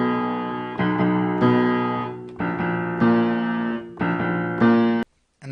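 Piano plays a song's bridge in a series of sustained chords and notes, struck in a rhythmic pattern of about six attacks that ring and decay, close and clear, ending abruptly.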